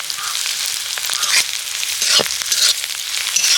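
Onion, crushed ginger-garlic and chopped green chili fry in hot oil for aloo chop, giving a steady close sizzle with occasional scraping stirs and spatula knocks, no voices.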